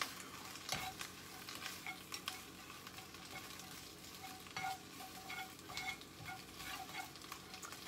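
Leafy greens cooking and wilting in a pan on a stove set to low: a soft, steady sizzle with occasional stirring scrapes and light clinks, faint and close.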